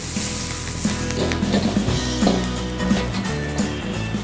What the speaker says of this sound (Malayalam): നല്ലോണം സോട്ട് ചെയ്യാം.